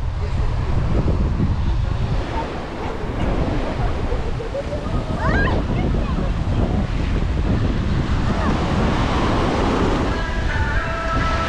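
Ocean waves wash onto a beach near Lisbon, a loud, continuous surf roar mixed with heavy wind buffeting the microphone, with a voice briefly audible.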